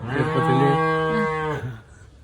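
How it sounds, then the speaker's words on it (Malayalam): Cattle lowing in a single long moo of about a second and a half, close and loud with a steady deep tone, then fading into quiet farm ambience. "പശുക്കൾ ഇങ്ങനെ ഒരു മ്യൂസിക് ഇടാണ്"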